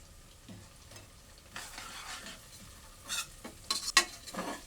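Ginger garlic paste hits hot oil in a pan for a head meat curry, giving a soft sizzle with a few scraping stirs that grow louder and sharper toward the end, close by with no talk.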